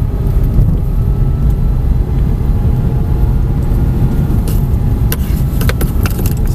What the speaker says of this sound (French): on va pouvoir s'avancer tranquillement en accélérant tout doucement vers l'axe piste